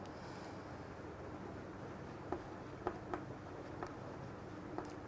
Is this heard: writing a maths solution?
yes